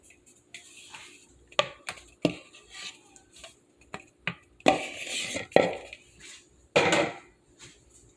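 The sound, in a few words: whisking carrot cake batter with flour in a bowl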